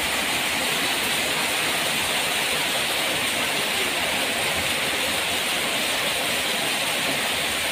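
Steady, dense rain falls outdoors during brick work, a continuous close hiss with no pauses and no talk.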